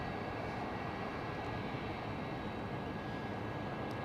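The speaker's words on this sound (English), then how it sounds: "I'm going to say this is a real treat to see this DC-9." A DC-9 jet airliner passes at an airfield in Anchorage, a steady, broad engine roar that stays loud and unbroken throughout with no voices over it.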